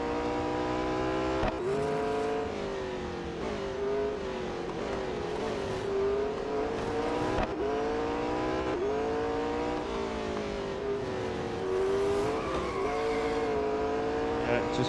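Engine of a McLaren 600LT race car in Real Racing 3, revving loudly and continuously with rising and falling gear-change sweeps across the whole lap, with a person talking over it.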